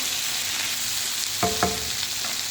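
Tomato and pepper frying in a pan with eggplant and onion, a constant close sizzle with two short scraping stirs near the middle and no talking.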